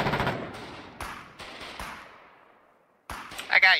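A machine gun nest in the Foxhole video game fires bursts, with several sharp reports echoing and decaying, a quiet pause, then more gunfire mixed with a voice.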